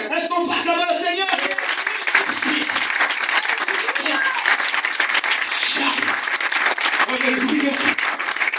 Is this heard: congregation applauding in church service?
yes